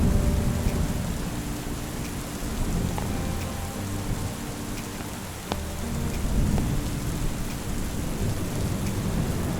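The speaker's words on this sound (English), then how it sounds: "the thunderstorm came rolling in that afternoon and ended our outdoor activities" Steady heavy rain pours down on a farm during an afternoon thunderstorm, with low thunder rumbling through and a sharp crack near the middle, continuous and fairly loud with no voices.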